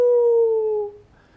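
A person imitates a wolf with a single sustained howl, a smooth drawn-out vocal tone that holds steady then slowly fades and trails off, close and alone with no other talk.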